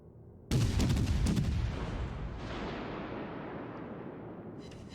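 Warship guns open fire in World of Warships: Legends: one sudden loud boom that rolls into a long fading rumble, then a second, softer blast about two seconds later.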